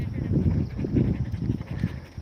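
A dog pants steadily nearby in a quick, rhythmic series of breathy puffs, loud and close, with no talking over it.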